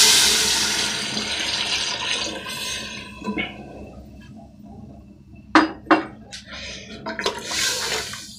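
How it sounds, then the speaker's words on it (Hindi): Water poured into a cooker pot of sizzling Afghani pulao ingredients, a rushing pour fading into hiss, followed by several sharp metallic clinks and a renewed splash, close with no talk. "मैं 2 लीटर पानी डाल रहा हूँ इसके अंदर।"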